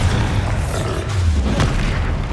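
An explosion spell in the Hogwarts Legacy video game, a loud, deep booming blast with a rumbling roar that swells twice in quick succession, close and heavy with no talk.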